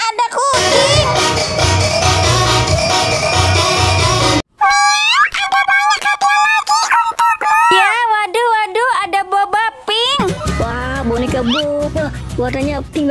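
Meowing cat-like cries, several drawn-out wavering calls in a row, sandwiched between loud bursts of music and squawky rooster-like sounds.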